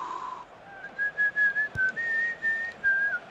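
A person whistles a short wavering tune in a series of clear, high notes during a Euro 2016 football match between France and Romania, heard over a low crowd murmur.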